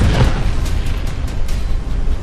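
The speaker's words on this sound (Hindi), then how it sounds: "ये धमाका अजरबैजान ने किया" A deep, loud boom from an explosion in the Azerbaijan-Armenia conflict over Nagorno-Karabakh rumbles heavily throughout, with a sustained low roar and no voices.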